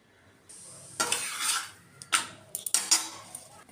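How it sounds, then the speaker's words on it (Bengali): Rotis being rolled out in a home kitchen while others fry on a hot tawa, with a few clattering, scraping bursts of utensil and pan contact, close and moderately loud, separated by quiet pauses. "একদিকে বেলছি আর একদিকে ছেঁকছি"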